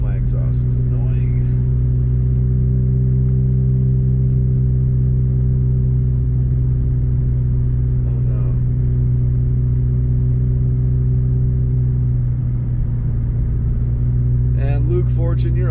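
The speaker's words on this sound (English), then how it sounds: "I know my exhaust is annoying." A loud car exhaust drones steadily while driving a snowy mountain highway in a snow storm, a continuous low rumble with brief voice commands over it at the start and end.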